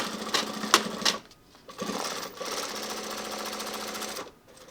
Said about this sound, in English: Make sure to back tack really well here.